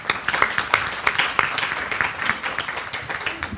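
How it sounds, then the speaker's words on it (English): Audience applause for a speaker at a child abuse prevention and awareness event, with individual claps standing out sharply in a fairly sparse, uneven rhythm across a few seconds. "Please give him another round of applause."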